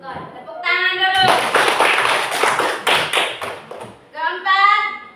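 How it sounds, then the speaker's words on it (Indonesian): A classroom of children claps hands together in a loud, rapid burst lasting a few seconds, with a teacher's voice speaking before and after the applause. "Tepuk tangan dulu."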